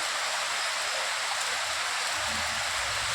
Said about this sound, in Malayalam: പെരുമഴ, മഴയോട് മഴ തൃശ്ശൂർ ജില്ലയിൽ